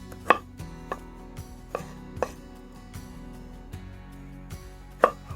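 A knife halves Brussels sprouts on a cutting board in a few sharp, irregular thunks spaced about a second apart, with quiet handling between the cuts.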